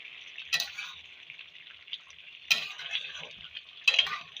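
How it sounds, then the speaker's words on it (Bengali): A pan of flat beans, eggplant, potato and spices with ground black pepper is stirred and sautéed for a vegetable curry: a steady close sizzle broken by three sharp scraping strokes of the spoon against the pan. "সবকটা উপকরণ আবারও ভালো করে কষিয়ে নেব।"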